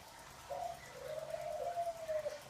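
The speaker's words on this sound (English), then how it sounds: "Those are my doves." Pet doves cooing nearby, a single soft drawn-out coo call lasting about two seconds, clear over a quiet background hum.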